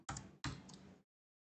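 Two dull, heavy keystroke thumps on a computer keyboard, close and fairly quiet, followed by silence.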